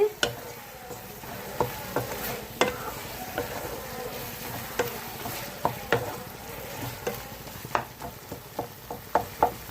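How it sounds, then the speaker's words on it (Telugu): Tomatoes softening in a pan on the stove for a ground tomato-coriander chutney, a low steady sizzle punctuated by regular sharp spoon taps and scrapes that quicken toward the end. "మగ్గిపోయినాయండి టమాటాలు స్టవ్ ఆఫ్ చేసేద్దాము"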